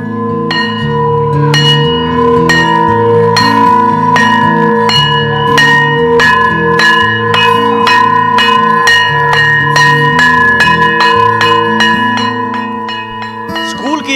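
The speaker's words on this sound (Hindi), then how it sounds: "घंटी करीब 9 महीने बाद फिर सुनाई देने लगी है।" A school bell rings loudly and continuously in a fast repeating clangour, resonant strikes overlapping for the whole stretch, at a school in Jharkhand reopening for classes 10 to 12.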